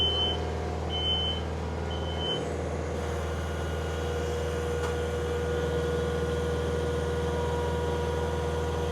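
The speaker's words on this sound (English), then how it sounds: "that backup beeper's piercing" Reversing beeper on a vehicle at a job site where an F-350 flatdeck is being upgraded. It gives a few high, piercing tones in the first seconds over a steady engine hum and constant background noise.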